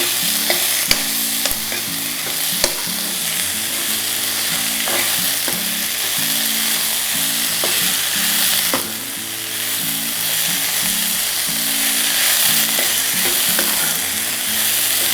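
Tomatoes fry in a pan for oats and millet upma, a loud, continuous sizzle with steady stirring and occasional utensil knocks against the pan, no voices.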